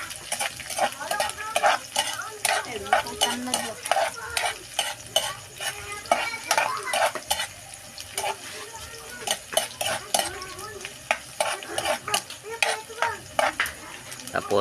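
Onions hitting a hot frying pan for a spicy tuna dish, with steady close sizzling under repeated stirring scrapes and clinks of utensil against the pan throughout.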